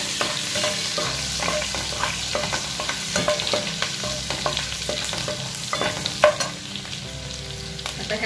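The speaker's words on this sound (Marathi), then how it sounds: "लसूण चांगला लाल होऊन द्यायचा, म्हणजे वास छान येतो।" Garlic frying in a pan until reddish for butter pav bhaji, a continuous dense sizzle with intermittent stirring scrapes, close and moderately loud, no talk.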